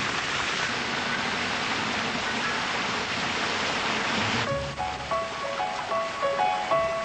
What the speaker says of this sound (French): une pluie battante peut venir à bout de colonies entières.